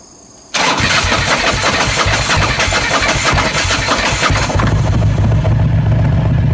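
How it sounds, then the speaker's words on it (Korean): A Harley-Davidson motorcycle engine cranks and catches after a short quiet moment, then runs on in a loud, steady, close-up idle with a rough, throbbing pulse and no talking over it. "그럼 저도 한번 시동을 한번 걸어볼게요."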